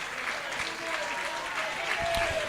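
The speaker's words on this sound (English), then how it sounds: "Manny Williams just getting a real good applause here today." Crowd at a Slough Town versus Dartford football match applauding Manny Williams as he is substituted off, a steady distant patter of clapping with faint voices over it.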